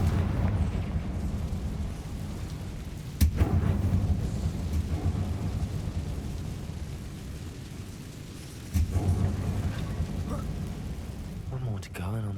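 Confringo fire spell explosions in Hogwarts Legacy, two sharp bursts followed by a rumbling, roaring blaze over a constant loud background, with a voice talking over them.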